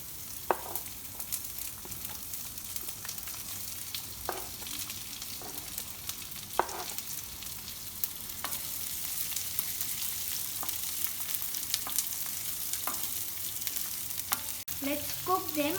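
Onions frying with cumin seeds and garlic in a pan: a steady soft sizzle with occasional small clinks and stirring scrapes, close by, and no talk.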